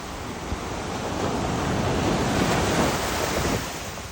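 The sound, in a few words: ocean waves washing up on Kaanapali Beach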